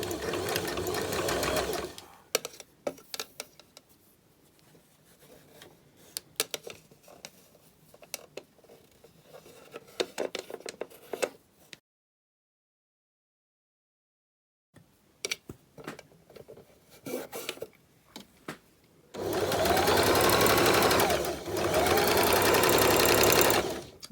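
A sewing machine fitted with a rolled hemming foot stitches a rolled hem, running in stretches of steady, rapid mechanical whirring and ticking, with a silent pause partway through and a loud, close final burst.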